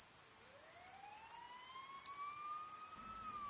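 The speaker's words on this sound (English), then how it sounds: "You hear sirens nearby." A police siren in the video game Persona 4 Golden wails with a slowly rising tone that sweeps upward, steady and fairly close, over a soft hiss like rain.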